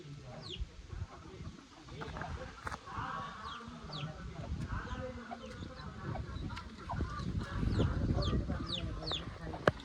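Village chickens cluck in scattered bursts nearby, with faint voices and rustling outdoor noise around them.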